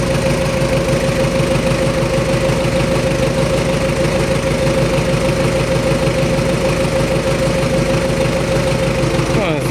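MTZ-82.1 tractor diesel engine held at raised revs after fuel pump work, a loud, close, steady knocking rumble with a thin sustained whistle running through it and a voice speaking over it.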